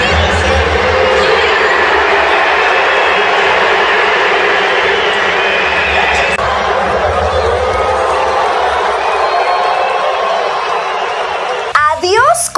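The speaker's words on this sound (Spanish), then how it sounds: "con abucheos de la afición parisina" Huge stadium crowd of PSG fans booing Mbappé, a continuous loud roar of jeers and whistles filling the whole stretch, steady in intensity with a brief break near the end.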